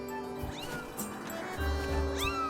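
A cat meows in the video game The Legend of Zelda: Skyward Sword, with two short rising mews near the start and end over a quiet game background.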